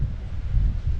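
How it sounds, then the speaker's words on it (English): Strong wind buffets the microphone at a seaside port in Puerto de Soller, Mallorca, a steady low roaring rumble with gusty swells filling the whole second, no voices. "It is very windy today"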